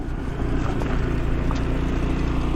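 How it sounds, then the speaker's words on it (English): A Honda ADV 150 scooter climbs a road hill at normal throttle, its engine giving a steady, close, droning hum with wind noise throughout. "We're just riding it normal and saying, come on mate, get me up this hill"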